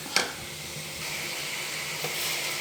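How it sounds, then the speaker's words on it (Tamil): Tomatoes stir in a hot pan for a murungai kai (drumstick) gravy, giving a steady close sizzle with a sharp scrape near the start and another soft clink later, no voices. "தக்காளியை போட்டு நல்லா கிளறி விடலாம் ஃப்ரெண்ட்ஸ்"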